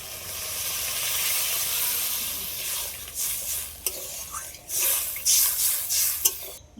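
Water splashed into hot spiced oil with green peas for a tilapia curry, giving a steady hissing sizzle that breaks into sharper spitting bursts toward the end, close and fairly loud, with no talk.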